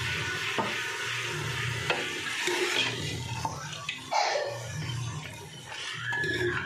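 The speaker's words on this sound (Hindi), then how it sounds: "चम्मच चलाएंगे और अच्छे तरीके से इसको भून लेंगे" Mutton fries in oil for aloo gosht while a spoon stirs it in the pot, a fairly close bubbling sizzle broken by irregular scraping and stirring sweeps, with some wet sloshing.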